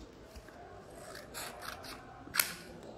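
Scissors snip through a paper strip in a children's craft lesson, with soft rustling of paper and then one sharp, crisp cut near the end, heard up close.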